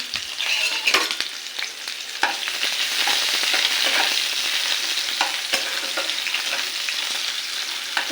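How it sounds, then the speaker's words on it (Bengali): Chopped onion frying in oil in a wok, a dense continuous sizzle with sharp clicks and scrapes of a spatula stirring, close and fairly loud. "এটাকে ভেজে নেব পেঁয়াজ কুচিটাকে ভাজবো"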